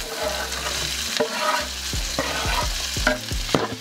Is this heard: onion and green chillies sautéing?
yes